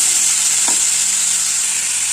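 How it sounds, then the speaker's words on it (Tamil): Tomatoes and onions sauté in a pan, a steady bright sizzle filling the whole stretch with one soft clack of a stirring spoon partway through. "தக்காளி வெங்காயம் நல்லா வதங்கட்டும்"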